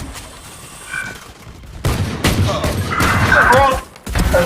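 Bursts of rapid gunfire in the game Valorant, loud rattling volleys mixed with game effects and impacts, with players talking over the action.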